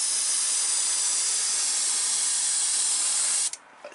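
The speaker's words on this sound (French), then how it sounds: "Donc, peinture dans l'aérographe, et toujours pareil." An airbrush sprays paint onto a scale model of a 1971 Datsun 240Z safari rally car, a steady, close hiss running unbroken for several seconds before cutting off abruptly near the end.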